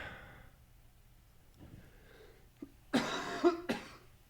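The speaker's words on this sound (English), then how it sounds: "if I lean over and cough, I apologize" A man with a cold gives a few sharp coughs near the end, two or three close bursts after a quieter stretch with faint background noise.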